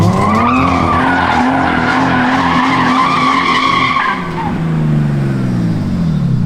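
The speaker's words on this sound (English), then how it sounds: "We're gonna see if this thing revs a little bit higher now." A cheap drift car's engine roars loudly and continuously, its pitch climbing and holding high before dropping and revving again near the end.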